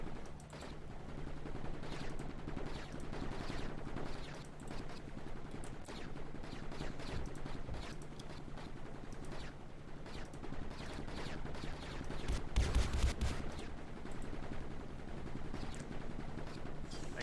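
Gun turrets in Mindustry firing nonstop, dense rattling bursts over a low steady hum, fairly faint and continuous, swelling into a heavier thumping stretch near the end.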